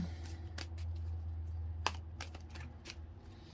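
Tarot cards are shuffled close by in soft, quick riffles and slaps, with a few sharper taps over a steady low hum and no talking.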